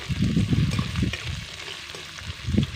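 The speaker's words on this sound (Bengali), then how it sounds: "খুব বেশি পেঁয়াজটা ভাজবো না, একটু লাল করে ভেজে নেব যাতে পেঁয়াজের কাঁচা গন্ধটা চলে যায়।" Chopped onions and green chillies frying in a pan, an even sizzle with a few stirring scrapes and louder bursts, close and moderately loud, with no talking.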